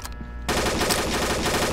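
Dense, continuous automatic gunfire in the video game Combat Arms erupts after a brief quieter moment and rattles on loudly without pause.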